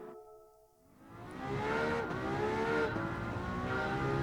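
A V12 engine in a racing video game revving up from quiet, its tone climbing and falling through gear changes as it pulls hard, loud and steady with no voices over it.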